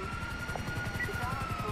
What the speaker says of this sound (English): It's that chopper, man.